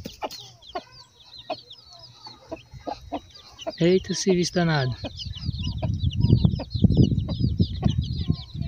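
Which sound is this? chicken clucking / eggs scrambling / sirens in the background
chicken clucking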